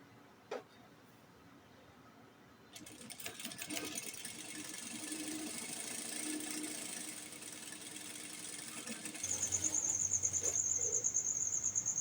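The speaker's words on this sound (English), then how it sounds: "I'm going to sew using half of an inch." A sewing machine stitches a layered organza flounce with a half-inch seam, its steady mechanical whir starting after a sharp tap and running continuously, growing louder and brighter near the end.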